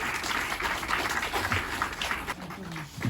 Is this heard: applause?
yes